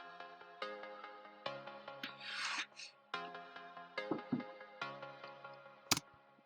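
Short, clipped plug synth notes in an afro drill beat, playing a choppy melodic pattern with brief gaps between hits, accompanied by scratchy rasping sounds and a sharp click near the end.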